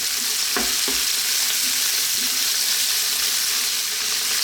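Bacon, mushrooms, garlic and onion fry loudly in a pan as they are tossed around, a dense continuous sizzle up close with a couple of dull knocks early on and no talking.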